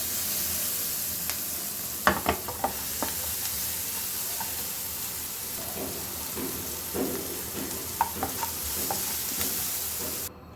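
Capsicum pieces sizzle steadily in a frying pan for a spicy capsicum dish, with scattered clicks and scrapes of stirring spread through the clip and no voices.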